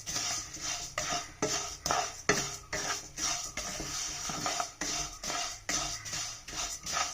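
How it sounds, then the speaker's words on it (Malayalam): Vermicelli is roasted in a pan for a Kerala snack, with a spoon or spatula stirring and scraping in a steady rhythm of close clinks and scrapes, repeating about every half second, with faint frying and no voices. "നമുക്കിനി സേമിയം വറക്കാം."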